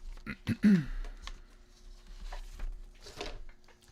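A few clattering knocks and scrapes of a telephone being shifted on a desk during a lecture, close by, followed by quieter rustling and a faint breath.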